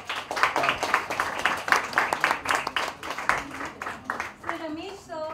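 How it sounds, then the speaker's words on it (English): An audience bursts into enthusiastic applause at a media event honouring filmmaker Ramesh Sippy, dense overlapping claps with a voice rising near the end. "Can we have a huge round of applause for them?"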